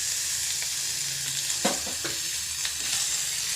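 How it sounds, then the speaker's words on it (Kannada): Onions frying in a pan, a steady close hiss of sizzling oil with a few soft stirring scrapes and clicks partway through, no talking. "ಈರುಳ್ಳಿ ಫ್ರೈ ಆಗಿದೆ"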